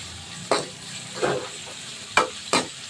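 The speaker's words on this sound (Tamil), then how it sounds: "இப்போ வெங்காயம் வதங்கட்டும்" Onions and curry leaves sautéing in a pan, with a spoon stirring them: four short scraping stirs stand out over a soft, steady sizzle close by.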